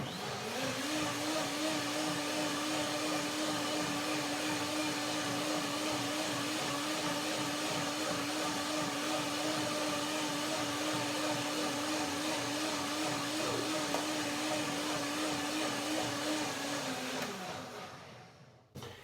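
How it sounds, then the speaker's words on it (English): A blender whirring through banana milk soup with blueberries and walnuts, a loud steady motor drone held close and unbroken for about seventeen seconds before winding down and stopping. "So I blend it one more time."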